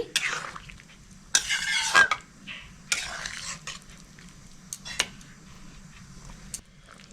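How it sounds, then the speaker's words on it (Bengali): A spoon stirs chopped capsicum into chicken soup in a pan on the stove, giving several scraping, clattering strokes against the metal with brief pauses and a soft simmer between them, close and moderately quiet. "দিয়ে ভালো করে মিক্স করে নিচ্ছি"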